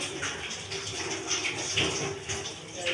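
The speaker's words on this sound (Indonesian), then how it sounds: "Setelah itu kita kembali bilas di bawah air mengalir" Hands are rinsed under a running tap, with water splashing and gushing steadily at close range, without talk.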